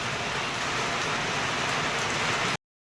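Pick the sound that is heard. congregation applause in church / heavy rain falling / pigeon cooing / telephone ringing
heavy rain falling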